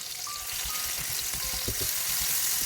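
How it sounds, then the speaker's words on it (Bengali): Onions fry in oil in a pan while a fish dish is cooked, a steady close sizzle with soft crackles and bubbling pops, alone without talking. "এখন পেঁয়াজগুলোকে হালকা বাদামি কালার করে ভেজে নিব"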